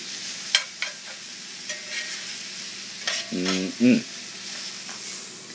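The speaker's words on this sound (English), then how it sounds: "Sauteing now in butter in a black iron skillet." Garlic and onion sautéing in butter in a black cast iron skillet, a soft steady sizzle with a few sharp utensil clicks and a brief louder scrape near the end; a short hummed murmur is heard.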